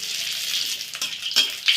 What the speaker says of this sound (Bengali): দেখুন, মশলাটা ভাজা হয়ে গেছে